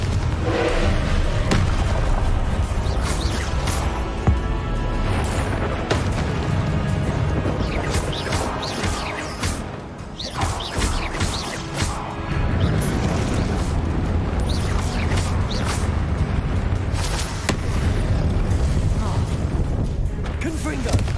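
Confringo fire spells explode again and again in the game Hogwarts Legacy, heavy booming blasts and thuds packed densely together over loud, continuous combat noise.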